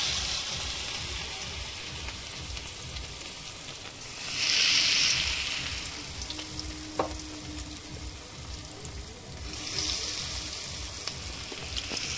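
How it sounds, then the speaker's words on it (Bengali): Jackfruit pakoda frying in hot mustard oil in a kadai, a continuous close sizzle that swells twice as pieces are added, with a few faint clinks of a utensil and no talking. "এবার আমি একটা একটা করে ভাজবো।"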